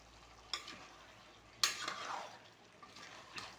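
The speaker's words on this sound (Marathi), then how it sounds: "आता असं हे ढवळून घ्यायचं" Malvani chicken curry being stirred in a pot, a few scraping clinks of the spoon against the metal over a soft sizzle, close and quiet.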